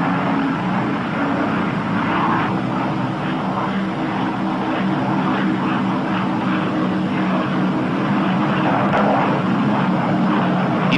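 Engines of a P-61 Black Widow fighter aircraft run with a loud, steady propeller roar that holds constant and close throughout.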